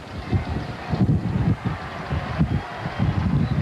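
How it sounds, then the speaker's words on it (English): Steady wind roars and buffets the microphone in low rumbling gusts up to 20 to 25 mph at a 1981 Penn State vs Miami college football game, rising and falling throughout with no voices. "you can hear the wind whistling, gusting up to 20, 25 miles an hour"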